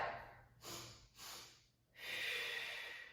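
Two quick nasal sniffs on an inhale during a mat Pilates workout, followed by a longer breath, all close and quiet with no talking.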